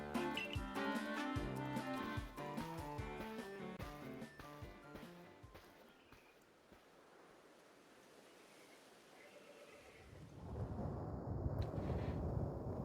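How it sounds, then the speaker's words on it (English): A rumbling, roaring storm in the Pokémon Legends Arceus game rises after a stretch of music, a broad wash of thunder and rain-like noise that fades low mid-clip, then swells loud again near the end. "What a strange storm."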